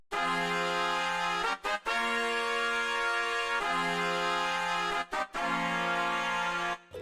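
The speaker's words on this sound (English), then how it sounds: "the second preset is another trumpet section, and they play the same pattern, sounds like this" A synthesized brass section plays sustained chords in a repeating pattern, full and loud, with brief gaps between phrases and no talking.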